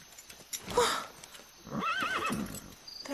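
A horse gives two shrill, wavering whinnies, the second longer, with soft hoof clops and movement between them, close and fairly loud with no talking.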